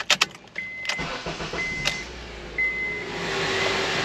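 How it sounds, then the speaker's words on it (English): A Honda CR-V with a 2.4 engine and an electrical fault cranks and restarts after a few clicks and chimes, then settles into a steady idle close by. "restarting the engine."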